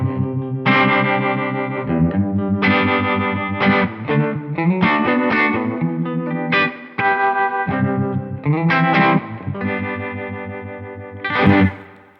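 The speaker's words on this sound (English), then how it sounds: "We've got a harmonic tremolo and a classic tremolo." An electric guitar runs through a Mariner harmonic tremolo effect set faster with the depth turned up, producing a rapidly pulsing, throbbing chordal tone alone without talk.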